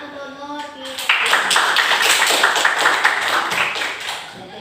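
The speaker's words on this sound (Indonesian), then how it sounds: "Tepuk tangan untuk Nur." A classroom group applauds for a student during an Islamic religious studies lesson, a brisk burst of many hands clapping close by for about three seconds after a short spoken prompt, then fading out.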